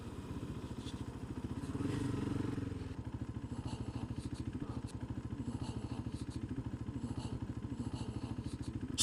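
A KTM 390 Adventure motorcycle engine runs at low speed during slow riding, with a steady, close, pulsing beat that briefly swells louder around the second mark before settling back into an even throb.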